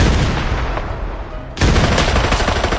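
Loud, sustained automatic fire from an M16 rifle in the shooter game Arena Breakout, a dense continuous burst that briefly thins and then returns at full intensity.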